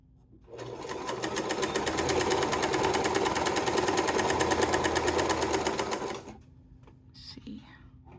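A Kenmore sewing machine runs steadily for about six seconds with a rapid, even mechanical chatter, loud and close, then stops, leaving faint room noise and small handling clicks.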